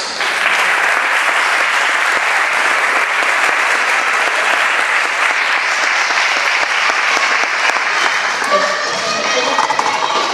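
A crowd at the Villaviciosa, Asturias apple festival presentation applauds the president of the Mancomunidad de la Sidra with loud, dense, sustained clapping that thins toward the end as a voice begins to speak.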